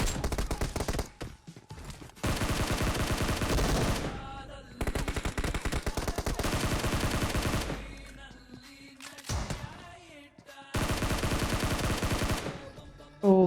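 Dense automatic gunfire in the PUBG Mobile battle royale game, long loud bursts broken by short pauses and a reload gap near ten seconds, with no talking over it.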